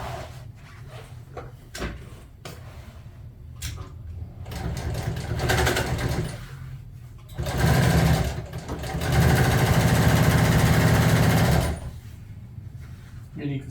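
A sewing machine stitches a golf cart seat cover in short bursts, then longer steady whirring runs, close by, with a person talking between stretches.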